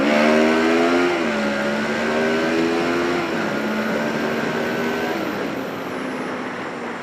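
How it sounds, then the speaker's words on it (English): A motorcycle on race tyres roars close and loud under hard acceleration, its engine note stepping through gears before easing down as it brakes, with steady wind and road noise throughout. "I'm accelerating hard towards a car and then braking hard"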